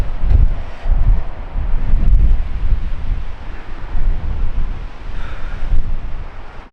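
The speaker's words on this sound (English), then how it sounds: "it's crazy windy right now. There's a big storm." Strong storm wind buffets the microphone at a coastal overlook in Alaska, a loud, continuous low roar with gusting surges and no talk.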